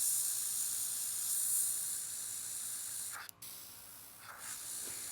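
An airbrush sprays nail paint during a nail art workshop, giving a steady close hiss that cuts off briefly, then resumes with a couple of short bursts.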